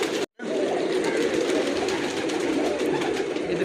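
Pigeons of a Shaheen breed cooing in a loft, a continuous dense chorus of low throaty coos close by with steady background noise, after a brief silence at the start.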